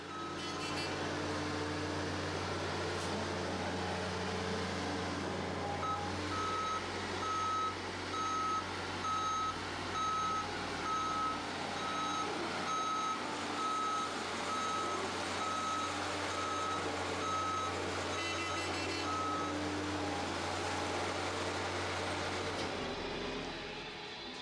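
A heavy truck reverses with a steady repeating backup beeper over a constant diesel engine drone while being pulled by a skid steer across hard ground at a septic tank install; the beeping runs most of the way through, loud and nearby.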